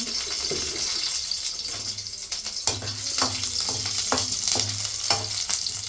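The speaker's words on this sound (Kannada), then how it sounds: "ಸೊ ಫಸ್ಟ್ ಈಗ ಎಣ್ಣೆ ಕಾದಿದೆ. ಸೊ ಫಸ್ಟ್ ಎಲ್ಲ ಚಿಲ್ಲಿ ಹಾಕಿ," Green chillies frying in hot oil for chilly chicken, a steady loud sizzle and crackle running throughout with sharp spitting pops and bursts scattered across it, no voices.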